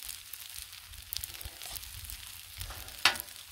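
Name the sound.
eggs frying on Blackstone griddle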